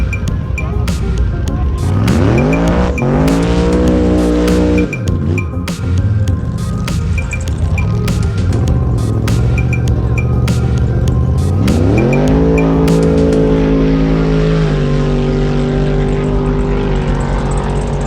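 High-performance RC cars race past at a track, their engines whining and rising and falling in pitch, loud and continuous, with sweeping changes as the cars accelerate and brake.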